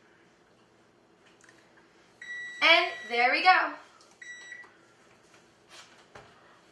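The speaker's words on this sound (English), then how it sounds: "The timer's at 5 seconds, almost there." A kitchen timer counting down while brownies bake gives short electronic beeps, close and clear, with a person talking in between.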